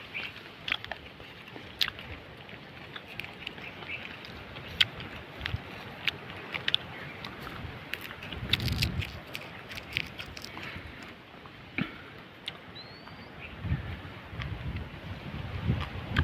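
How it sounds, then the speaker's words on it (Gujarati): Gentle wind blows steadily outdoors on an evening farm plot, a soft continuous rush with scattered faint crackles and bumps near the microphone, no voices. "પવનનો હજી ધીમો ધીમો તમે જોઈ શકો એટલે ધીમો પવન છે."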